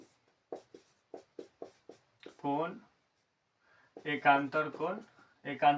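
Marker or chalk taps and short strokes on a board during a physics lesson, a series of quick close scratches followed by someone speaking in Hindi.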